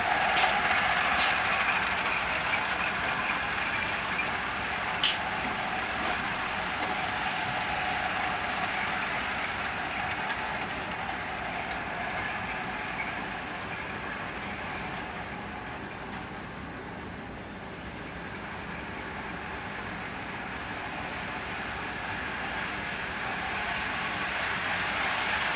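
Live steam model locomotives double heading on a track, giving a steady broadband hiss and chuff-like rumble throughout with a few sharp metallic clicks, moderately close and continuous.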